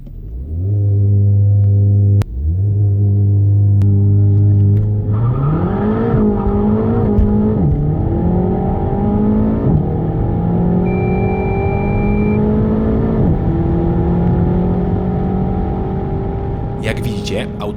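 A Renault Megane R.S. TCe 300 with EDC gearbox launches from a launch-control start, its engine held at a steady high idle before surging loud and close through rising revs and upshifts while the car struggles for traction.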